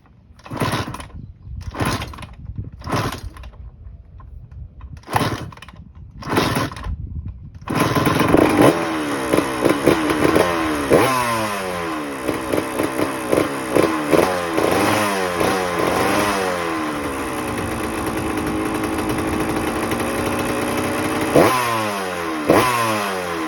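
A 1998 Honda CR125R two-stroke dirt bike with a new plug is kicked over several times in separate attempts, then fires up and runs, rapping and revving repeatedly in loud, close, high-pitched bursts.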